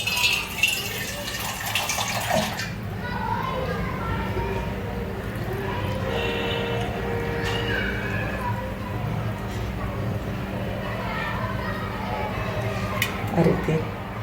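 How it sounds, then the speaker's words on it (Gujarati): Water splashes into a jar of gunda and mango pickle in a short gushing pour at the start, followed by someone talking over quiet room sounds. "તો આ રીતે આપણે ગુંદા ડૂબી જાય એટલું પાણી નાખવાનું."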